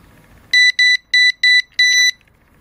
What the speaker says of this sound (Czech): Hlásič zapnete tak, že delší dobu podržíte tlačítko tón.